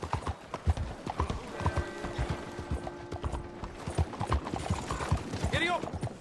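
Horse hooves clip-clopping at a steady walking rhythm in Red Dead Redemption 2, set in a town, with a brief whinny near the end and voices talking over the hoofbeats.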